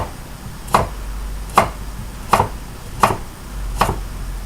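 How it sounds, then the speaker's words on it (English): A knife slices carrots on the diagonal against a cutting board, five distinct sharp chops evenly spaced about a second apart, close and clear over a quiet kitchen background. "if you cut diagonal, all of a sudden you cut one flat, don't worry about it"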